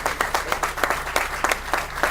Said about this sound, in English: I'd like to recognize them with a round of applause